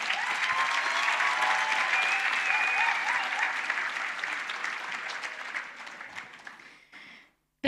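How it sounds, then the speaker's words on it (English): An audience at the opening ceremony of a conference claps in a sustained burst of applause that fades gradually before stopping, with no voices over it. "I think DJ, that one would have deserved the clap that is done in a nice way."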